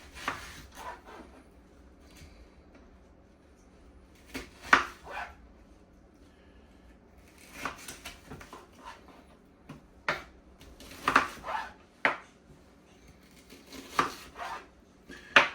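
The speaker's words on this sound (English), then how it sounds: "Two sweet onions chopped up in quarters." Knife chopping two sweet onions into quarters on a cutting board for a pot roast, with sporadic sharp chops spaced irregularly, close and fairly quiet, with no voices.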